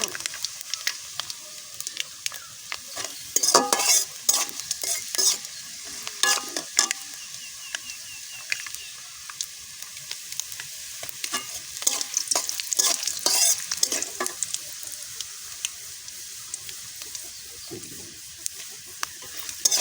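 Panch phoron, a five-spice mix, crackles and sizzles in hot oil for a green mango pickle while a spoon stirs and scrapes the pan in repeated bursts, over a continuous background fry.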